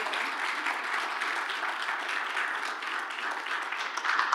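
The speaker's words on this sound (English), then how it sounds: "Let's give Nicole a round of applause" Applause from a church congregation during a sermon service, a steady dense wash of many hands clapping throughout, fairly loud and without speech.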